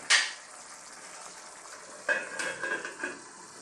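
Ginisang upo (bottle gourd sauté) with sardines bubbling in a pot, a soft steady simmer with a sharp clink at the start and a few spoon or pot knocks later, no talk.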